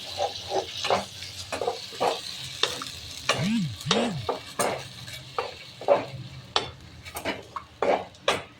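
Spice paste of black pepper, cumin and ginger stirred into softened tomatoes frying in a pan, with repeated close scraping and clinking of a utensil against the pan over a low sizzle.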